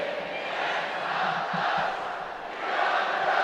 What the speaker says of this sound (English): The chanting Portland crowd.